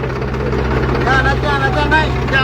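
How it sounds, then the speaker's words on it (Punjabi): A tractor engine pushes through deep floodwater, a steady low throbbing drone running continuously beneath several voices talking nearby. "ਇਧਰ ਟਰੈਕਟਰ ਬੰਦ ਹੋ ਜਾਣਾ ਤੁਰੇ ਜਾਓ ਉਹਨੂੰ ਸਾਹ ਨਹੀਂ ਮਿਲਦਾ ਟਰੈਕਟਰ ਨੂੰ"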